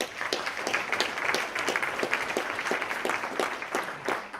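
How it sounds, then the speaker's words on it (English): A conference audience applauds panelists after a counterterrorism discussion, with steady dense clapping from a moderately distant crowd throughout. "let's give our panelists a big round of applause"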